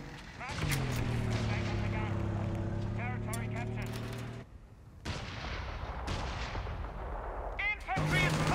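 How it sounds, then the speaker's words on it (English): Infantry gunfire in Company of Heroes 3 sounds as rapid cracks and booms over a constant battle rumble, mixed with game voice lines and a short lull midway. "Infantry is firing on us!"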